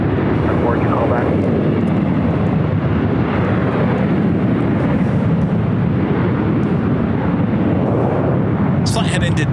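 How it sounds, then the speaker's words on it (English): Delta Air Lines Airbus A319 taking off at Los Angeles airport, a loud, continuous jet engine roar rumbling steadily throughout, heavy and broadband, with a brief clatter at the very end. "Flight heading to Denver, Delta Airlines Flight 2004. It's an A319"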